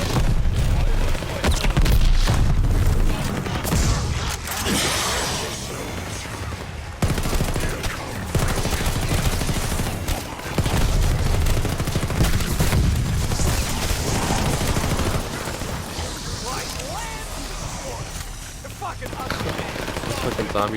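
Rapid gunfire rattles in the video game Call of Duty: Vanguard, with dense bursts of automatic shots and heavy booms running for about twenty seconds, briefly cutting out once, loud and close, with occasional voices underneath.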